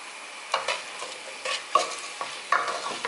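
A spoon stirs heaped salt into a pot of Pakistani pea pilau (mattar pilau), giving a few soft scraping, clattering strokes at a slow irregular rhythm, close and fairly quiet with no talking.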